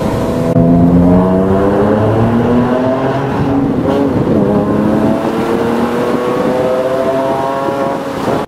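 A Porsche 997 Mk1 with a sport exhaust and its valves open roars loudly through a tunnel, the engine note swelling and dipping in pitch with heavy reverberation and no voices.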